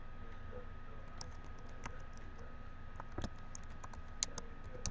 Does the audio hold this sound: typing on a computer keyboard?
yes